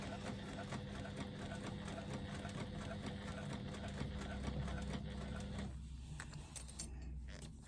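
A sewing machine stitching a thick faux leather strap, a fast steady mechanical whirr with rapid needle clatter, close and fairly quiet, slowing and stopping near the end.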